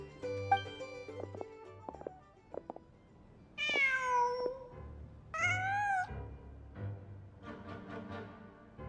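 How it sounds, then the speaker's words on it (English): A cat in Genshin Impact gives two long, clear meows a second apart after a few soft clicks and taps, then a quieter, breathier mew fades out at the end. "Huh. Just a cat."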